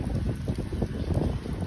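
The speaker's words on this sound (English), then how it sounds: "And it's windy." Steady wind buffets the microphone with a low, rumbling gusty noise throughout, close and constant.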